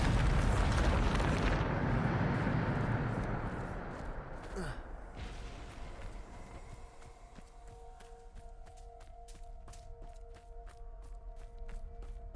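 A Bombarda spell blast in Hogwarts Legacy: a loud, dense roaring burst opens the clip and rumbles for about three seconds, then settles into a lower hum with a brief swooping tone and faint clicks.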